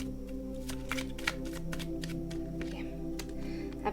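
Tarot cards are shuffled and drawn by hand, a soft, close riffling and flicking with quick irregular taps over a steady low background hum.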